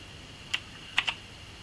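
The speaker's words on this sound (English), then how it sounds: "We type the command" Three soft, separate keystrokes on a computer keyboard while a command is typed, quiet and isolated against faint room hiss.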